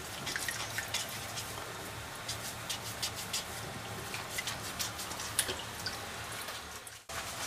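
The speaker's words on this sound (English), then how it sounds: "Look, he's washing the potatoes." Potatoes are washed under water in a home kitchen, giving a steady, soft wash of running water with irregular small drips and splashes, quiet and fairly close.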